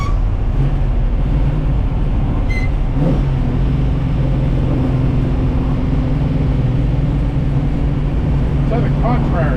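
A 670-horsepower small-block V8 in a 1964 Buick Special rumbles steadily from inside the car as it drives, a loud low drone that stays constant throughout.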